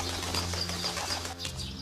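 A bird flaps its wings and coos in a loud scene, soft cooing repeating over a busy background of noise and rustling, with no talk in the moment.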